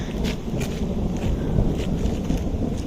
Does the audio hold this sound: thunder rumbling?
yes